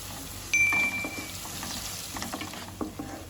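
Garam masala, salt and other spices sautéing in oil in a pan for fish-egg fry, a close sizzle broken by scraping and clinking stir strokes, and no voices.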